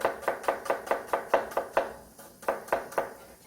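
Knife julienning onion on a cutting board, a steady run of sharp, evenly spaced chops close by, with a brief pause before the cutting resumes.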